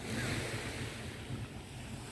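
Sea waves and wind on Na Kluea beach in Pattaya, a continuous roar of surf with heavy wind buffeting the microphone, loud and steady throughout with no voices.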